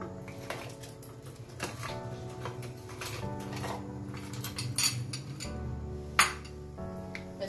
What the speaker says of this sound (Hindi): फिर हम इसमें आइस डालेंगे।